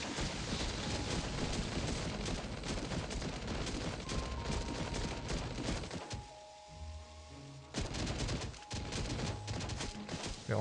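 Rapid, loud gunfire from a deployed turret in the survival video game Last Day on Earth, set at a transport hub, hammering continuously with a brief lull before the bursts resume.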